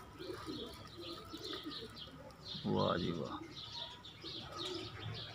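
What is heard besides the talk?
pigeons cooing, Indian pigeon breed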